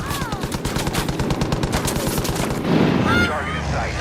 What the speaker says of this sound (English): I'm gonna strafe these sinners.